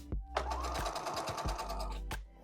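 A sewing machine runs a straight stitch down the edge of fabric for a reversible bonnet headwrap, a quick burst of rapid, evenly pulsing needle thumps, close and clear, with no speech.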